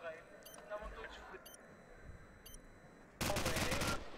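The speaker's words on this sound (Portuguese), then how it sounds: "a Armo é que falhou o tiro" Gunfire in a competitive esports match, heard as a few brief distant cracks followed by a loud, sustained burst of rapid shots near the end, under excited commentary.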